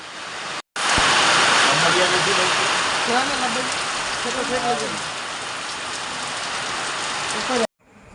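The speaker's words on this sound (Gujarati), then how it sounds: "વરસાદ બંધ થવાનું નામ લેતો નથી કોઈ" Heavy monsoon rain pours down in Bhavnagar, Gujarat, in a dense, constant roar, water running off the eaves, with faint voices murmuring underneath.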